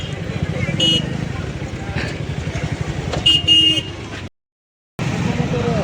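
Heavy street traffic in Satlasana on the eve of Raksha Bandhan produces a dense rumble of motorcycle engines with repeated horn toots, loud and close, and talk mixed in; the sound cuts out briefly near the end before the traffic noise resumes.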